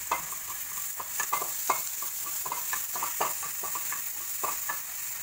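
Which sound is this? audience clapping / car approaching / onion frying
onion frying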